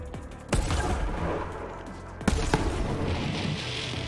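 Gunfire in the Borderlands 3 video game: two sharp shots stand out amid a busy, rumbling game soundscape. A hiss-like noise runs through the final second.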